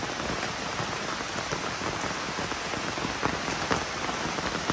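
Heavy monsoon rain pours steadily at a village home, a dense, continuous hiss of drops drumming on surfaces with no pauses and no voices.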